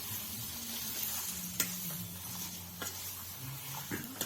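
Chicken frying in oil and masala in a pot over a wood-fired chulha sizzles steadily at close range, with occasional soft stirring clicks and light spatter, no talking.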